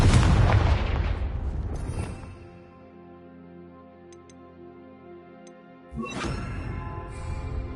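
A Confringo spell explosion in Hogwarts Legacy: a loud, close blast that rolls off into a long rumbling decay and quiet humming lull, then a second sharp burst erupts about six seconds in.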